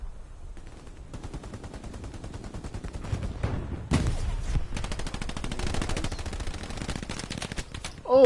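Machine gun fire in the online video game Hell Let Loose rattles in long, rapid, evenly spaced bursts, steady and fairly close, growing louder midway with scattered other shots behind.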